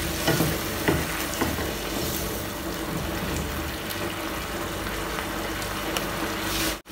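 Chicken and asparagus frying in a pan as they are stirred, a steady close sizzle with scraping and clinking strokes that are strongest in the first second, with no talking.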